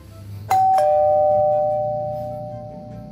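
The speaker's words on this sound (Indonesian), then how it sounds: "Coba di bel, Pak." A two-note ding-dong doorbell at a house sounds once, the second tone ringing out and slowly fading, with no voices over it.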